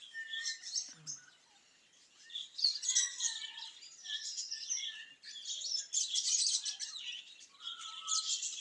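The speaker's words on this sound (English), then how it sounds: "You'll hear the cockatoos. This is our budgies and our lovebirds who live here." Budgies and lovebirds in a small-parrot sanctuary aviary chirp and twitter continuously, a busy layered chorus of high tweets and warbles at moderate distance with no talking.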